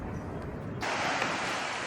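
Outdoor wind rumble, with a broad surf-like wash of Lake Erie waves coming in partway through and continuing steadily near a pier, fairly loud, with no voices.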